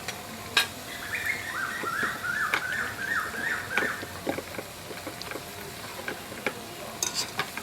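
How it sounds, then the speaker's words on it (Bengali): Lentil fritters (bora) for doi bora frying in hot oil and being stirred, a steady low sizzle with scattered clicks and scrapes of the spatula, close by; a thin whistling tone rises and falls briefly in the middle. "একটু নেড়ে ছেড়ে বাদামি করে ভেজে নেব।"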